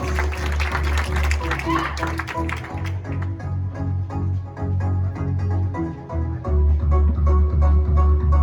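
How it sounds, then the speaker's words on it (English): At a karate school's black belt ceremony, a crowd bursts into applause for the candidates; the clapping is loud for a few seconds, then gives way to a voice talking over a murmuring room. "give our candidates a round of applause"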